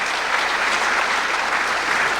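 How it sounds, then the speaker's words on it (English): Steady applause from an audience at a Boy Scouts distinguished citizen award ceremony, dense continuous clapping filling the whole moment at even loudness with no voices over it. "I think that deserves a round of applause"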